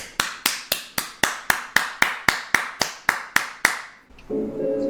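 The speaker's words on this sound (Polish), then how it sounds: "Brawa dla całego zespołu." Applause for a whole team: about fifteen sharp, evenly spaced claps ring out loud and close in a steady rhythm, then stop, and a different, buzzier sound takes over at the end.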